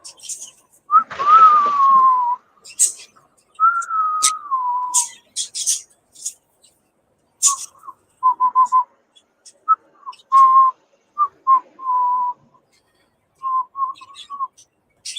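A pet bird gives intermittent whistles: a few longer, sliding whistled notes followed by short chirpy phrases and clicks, close and clear, with quiet pauses between bursts.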